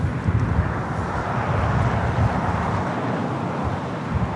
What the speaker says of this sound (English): This is Lufthansa 457 taking off to Frankfurt on the 747-8 Intercontinental Yankee Hotel.